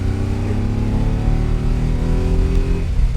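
A 1967 Ferrari 330 GT 2+2 Series II engine pulling in second gear around 3,000 RPM on the road: a loud, steady, close engine drone with a rich, even hum and no talking.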